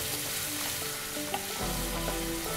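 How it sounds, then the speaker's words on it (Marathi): Onion and whole spices sauté in a hot pan for palak chicken, giving a steady close sizzle and crackle with faint tonal background sounds underneath and no talking. "हा कांदा छान असा परतून घ्यायचा आहे आपल्याला"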